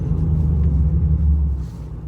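A car driven off-road on private ground during a brake test, its engine giving a steady close low rumble that eases slightly near the end.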